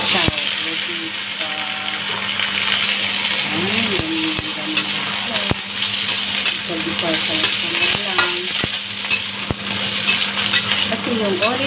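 String beans sizzle loudly in hot olive oil in a pan, with frequent spoon scrapes and clinks against the pan while a voice talks over the cooking.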